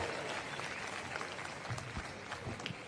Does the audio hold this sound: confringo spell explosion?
no